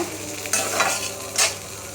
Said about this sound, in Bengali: চিংড়ি মাছটাকে কিছুক্ষণ ভেজে নেব